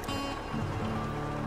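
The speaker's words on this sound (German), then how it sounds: "Weil jetzt fängt es an zu regnen." Rain hisses steadily in SnowRunner, a soft, continuous wash heard over the low, droning hum of an idling off-road truck engine.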